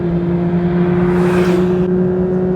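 A sports car engine accelerates on the road, heard close and loud as a strong, steady engine drone that swells briefly and then settles, with no talking.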